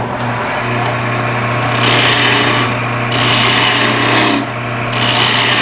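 A wood lathe tool cuts into the base of a turning, a steady close rasping scrape with bright bursts of tool contact over a constant low motor hum.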